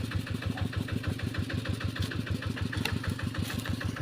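A vehicle engine idles steadily with an even, rapid low-pitched chug throughout, fairly close and with no talk over it.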